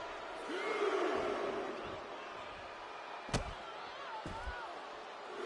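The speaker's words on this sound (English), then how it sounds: "This capacity crowd is really willing these competitors on." Arena crowd in the wrestling video game WWE 2K25 roars steadily in the background, with a sharp slam-like impact midway and quieter thuds later.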